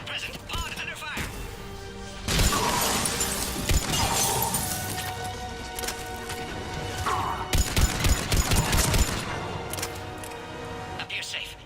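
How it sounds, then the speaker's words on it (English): Heavy gunfire hits a pod during an attack in Mass Effect 3, with bursts of shots, crashes and impacts in repeated waves under a game voice calling out warnings. "Under heavy attack! Enemy still present. Pod under fire."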